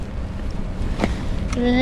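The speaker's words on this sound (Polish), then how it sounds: "Leje, że hej. Wiatr jest ogromny." Strong spring wind buffets a microphone outdoors in Vienna during heavy rain, a steady low rumble with a faint tonal whistle and a brief higher sound near the end.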